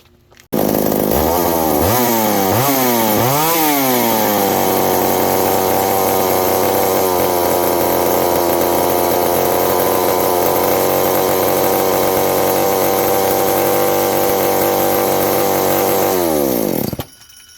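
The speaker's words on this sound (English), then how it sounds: "once you rev it up real high, it's remaining lean, so there's a leak somewhere" A McCulloch 790 chainsaw with a suspected air leak running lean: several quick throttle blips rise and fall, then the engine holds a loud steady high-rev scream for about twelve seconds before cutting back, with no talking.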